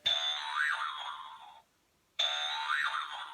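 A bouncy toy makes two springy boing sounds, each a wobbling twang that rings for about a second and a half, separated by a short silence, with no talking.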